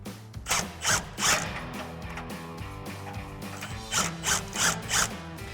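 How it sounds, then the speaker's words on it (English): A ratchet with a 13mm socket tightens exhaust hanger bolts on a Jeep Gladiator JT, clicking in quick rhythmic bursts of pawl ratcheting, close and fairly loud, with a pause between sets of strokes. "take our 13mm socket, tighten down the 2 bolts"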